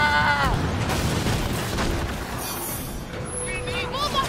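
Ship cannon fire in the pirate naval game Skull and Bones: a deep boom rolls out under an excited voice and loud game action, with more rumbling and shouting following.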